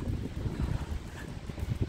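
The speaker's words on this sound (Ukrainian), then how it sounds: "вітер, воно ж буде шуміти" Steady low wind rumble buffeting the microphone outdoors in a seaside park in Odesa, with no voices.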